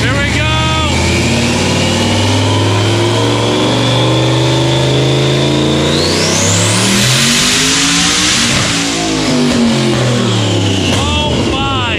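A boosted Corvette roars on a dyno pull in second gear, loud and close, its engine note climbing steadily through the revs before easing off, with people talking under it.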